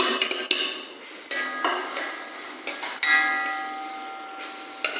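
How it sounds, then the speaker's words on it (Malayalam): Ginger dropped into hot oil for a Kerala ginger curry, with sharp metallic clinks of a spoon against the pan and a light sizzle underneath, close and intermittent. "ചൂടായ എണ്ണയിലേക്ക് ഇഞ്ചി"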